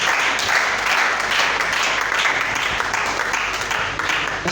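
A church congregation in Brazzaville, Congo bursts into sustained applause and cheering for papa Hamilton, a loud, dense wash of clapping that holds steady throughout.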